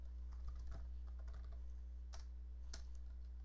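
Keys tapped on a computer keyboard while entering code: a handful of quiet, irregular clicks in two small bursts over a steady low hum.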